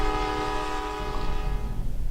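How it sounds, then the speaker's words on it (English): A video game train's horn blares loud and sustained as a chord of steady tones over the low rumble of the moving train, with no talking. "Stop walking in front of my train."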